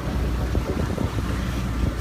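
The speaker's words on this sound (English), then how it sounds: "It's pretty windy so far right now." Strong wind buffets a small sailboat motoring downwind toward Norfolk in the early morning, a steady roaring rush of wind noise with low rumbling water, and no talking.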